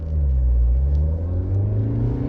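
A mid-engine car's engine revs hard during drifting donuts, a loud, steady, low rumbling roar with rising pitch, close by and with no talk over it.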